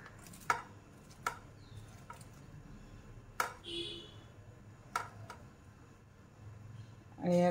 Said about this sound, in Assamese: পিঁয়াজো দিম মই অকণমান, এইখিনি মিহিকৈ কাটি লৈছোঁ।